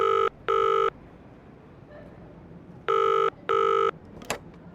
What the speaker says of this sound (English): Between meetings, he puts in a phone call to the organization's head of public relations.